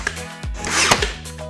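Nails being driven to fasten 1x4 wood slats onto a bench frame make a few close, sharp knocks and a scraping rub, set over a low steady hum.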